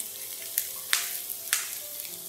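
Green chillies stirred into a sizzling pan of lightly fried onions, a steady close frying hiss broken by three or four sharp scraping clicks of a spoon, with no talk.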